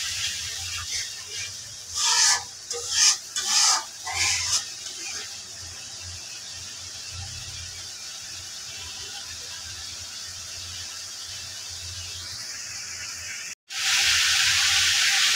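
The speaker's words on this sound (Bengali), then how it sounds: "তেলের মধ্যে দিয়ে দেওয়া হয়েছে, তেলটা গরম হচ্ছে আর এখন একটু নাড়তে হবে" Chili powder and spices sizzling in hot oil while stirred for a cauliflower, potato and fish head curry, a soft steady hiss with scraping strokes early on and a louder sizzle surging near the end.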